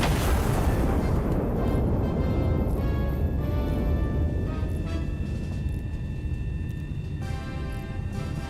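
Walking turret firing in the video game Iron Nest: a loud, continuous rumbling blast of cannon fire that holds steady, then thins slightly toward the end, with no voices.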